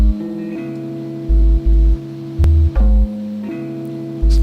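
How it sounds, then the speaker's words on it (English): Four chopped guitar sample slices play solo in a basic beat-making loop, sustained harmonic tones with sharp edits and repeated bursts of low thump, loud and close with no talk. "four chops of a guitar sample, which when playing in solo sound like this"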